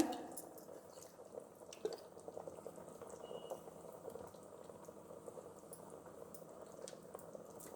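Ghee poured onto a heated iron dosa griddle gives a faint, continuous bubbling sizzle with occasional soft drips and pops, heard close and alone.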